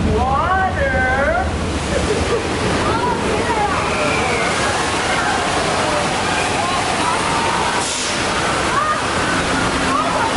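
Water rushes and splashes loudly in a continuous torrent on the Universal Studios tour ride, with people's voices and squeals over the flow.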